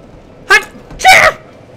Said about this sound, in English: Oh my god, I sneezed.